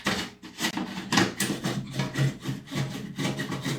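Metal screws being worked loose from an Eclatec Astec 83 street lantern, a close, steady run of scraping and grinding strokes with a rough, rhythmic rasp and no talk over it.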